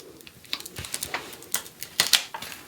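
Vinyl layers are peeled back off transfer tape on an acrylic keychain craft: a series of close, crisp crackling ticks and small rips, irregular and fairly loud, with no talking.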